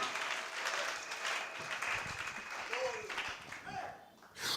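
A church congregation applauding during a French and Lingala service, a steady wash of clapping that runs the whole way, with a preacher's voice over it.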